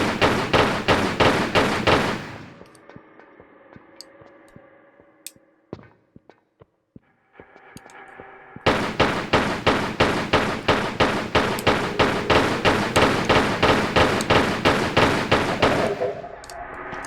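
Rapid, evenly spaced pistol shots from Tomb Raider 3, set in the RX Tech Mines level, fire in two loud bursts separated by a few seconds of quieter game sounds and thuds.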